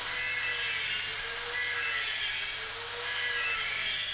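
An angle grinder grinds back the root pass of a MAG butt weld in the horizontal position, a continuous loud abrasive whine held steady for the whole stretch with slight dips in intensity, no voices.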